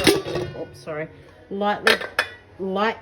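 Ceramic and metal dishware clinks and scrapes several times in quick, close, sharp knocks as a dish is handled for cooked Indian rotis, with a few short bursts of speech between.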